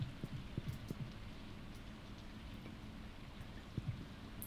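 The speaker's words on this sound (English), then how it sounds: "Ooh, it's raining." Rain falls in the farming video game Stardew Valley as a soft, steady patter, with faint low thumps scattered through it and no talking.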